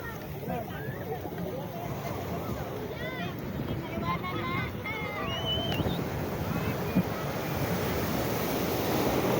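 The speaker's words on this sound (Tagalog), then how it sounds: "medyo malakas ang alon mga guys" Strong sea waves surge and crash around a boat, with gusty wind noise buffeting the microphone and voices faintly in the background.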